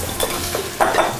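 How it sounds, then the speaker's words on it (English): Onions hit a heavy cast-iron skillet and sizzle steadily nearby, with soft stirring scrapes and a few light utensil clinks over the hiss. "we always want to hear that sound, that sizzle. Listen to that sizzle"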